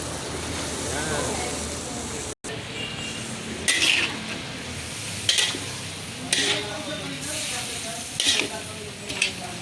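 Bok choy and vegetables for chop suey sizzle steadily in a hot pan while a utensil scrapes and stirs, with periodic louder clinks against the pan.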